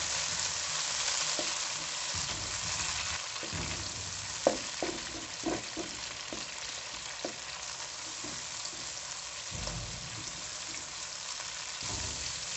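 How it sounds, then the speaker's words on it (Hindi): Tomatoes fry in half a cup of oil in a kadai, a steady close sizzle with several soft stirring knocks and scrapes scattered through, no voices. "कढ़ाई में आधा कप ऑयल ले लिया है और इसमें हम अपने टमाटर को भूनते हैं।"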